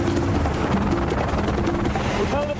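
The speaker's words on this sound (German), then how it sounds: "Der Helikopter landete auf dem Rollfeld" A helicopter landing on an airfield during a special forces operation gives a continuous loud rotor drone with a steady turbine whine, with voices heard over it.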